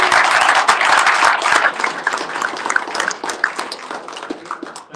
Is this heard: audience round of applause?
yes